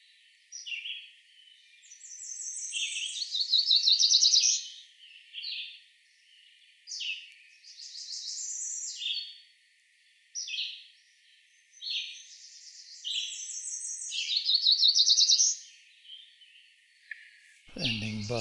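A Cerulean Warbler sings repeated bright, high phrases, each rising into a flat buzzy ending, with pauses between songs; near the end a low thump briefly breaks in.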